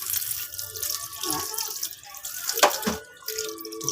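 A kitchen tap runs into a sink while dinuguan is being cooked, a close, splashing stream of water that surges and gurgles unevenly for the whole stretch.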